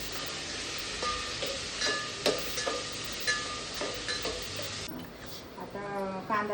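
Chopped onion sizzles and fries in a pan while a spoon stirs it, steady close frying hiss with scraping strokes and light clinks, a pause and then renewed stirring near the end.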